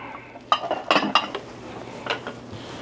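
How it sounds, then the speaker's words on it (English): A plastic spoon is grabbed from a kitchen stash while making a keto McDonald's Double Quarter Pounder hack, with a short burst of rattling, clinking clatter and a few lighter taps after it. "Just grab me a plastic spoon here, folks."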